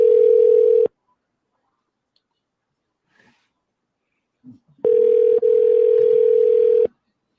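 A telephone dial tone sounds loudly for under a second, then silence with faint clicks, then the tone returns for about two seconds as a call is placed back to a caller.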